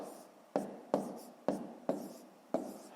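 Handwriting on paper while working a long-division problem, five short, sharp pen strokes in a steady rhythm, close and quiet.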